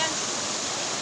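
A mountain waterfall pours in a dense, steady rush of white water, loud and close, with no break or change over the short stretch.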